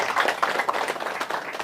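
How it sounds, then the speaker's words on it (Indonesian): An audience at an Indonesian speech event claps together in agreement, a dense, steady patter of many hands that holds at even loudness throughout. "Tepuk tangan kalau setuju."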